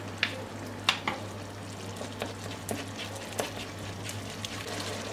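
Stirring instant sauce starch into a Chinese-style beef stir-fry, with soft sizzling and frying underneath and a few sharp spoon or pan clicks scattered through, fairly quiet and with no one talking.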